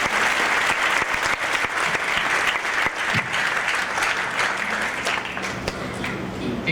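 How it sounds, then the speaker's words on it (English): Graduates applauding themselves at a commencement ceremony, a large crowd clapping loudly in a dense, sustained roar with a few sharper claps, easing slightly toward the end. "We deserve to give ourselves one huge round of applause"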